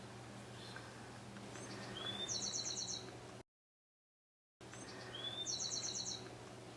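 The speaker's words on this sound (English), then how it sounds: "the birds are singing outside my studio" Birdsong drifts in from outside a studio, a few bright, repeated chirping phrases set against a steady low hum. The calls are fairly faint, and there is a brief gap of silence partway through.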